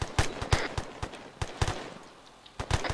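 Rapid rifle fire from a squad in the Arma 3 combat game, delivered as sharp, loud single shots spaced in an uneven rhythm with brief quiet gaps between bursts.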